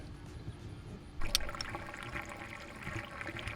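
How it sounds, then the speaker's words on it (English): Water pours steadily into a pop-up camper's fresh water tank after a brief clunk, making a faint continuous splashing trickle with no talk. "Fill the remainder of the tank, of course, with water."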